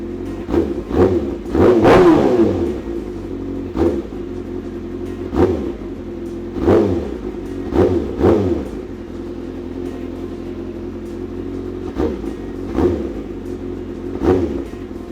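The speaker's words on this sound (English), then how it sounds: "Try revving it a couple of times, make sure we're not screwing anything up there." A 2019 Kawasaki Ninja ZX-6R with M4 exhaust idles and is revved repeatedly, several sharp throttle bursts rising and falling over a steady rumble, close and loud.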